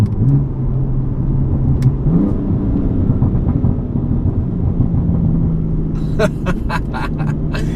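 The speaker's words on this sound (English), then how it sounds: "you can go for a crazy amount of burbles" A BMW M3 engine drones steadily at a low pitch, then near the end a rapid run of sharp exhaust crackles and pops bursts out on the downshift, loud and close.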